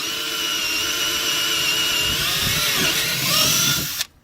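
A power drill with a small bit whines steadily at high speed, boring a pilot hole in a Bennington SX21 pontoon boat, its pitch wavering slightly, then cuts off abruptly near the end.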